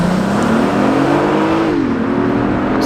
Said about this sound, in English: I'll rev it up to about 1500 RPM and then just let go.